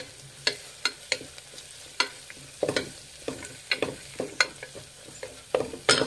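A lima bean curry with fresh coriander leaves is stirred in a pan, with repeated scraping and clacking strokes of a spoon over a light sizzle, close and uneven in rhythm.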